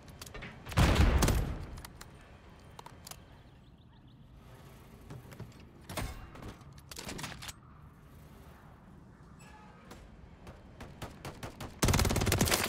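WSP Swarm submachine gun fire in Call of Duty: Modern Warfare III, sharp bursts rattling out at the start and again at the end, with quieter game noise in between.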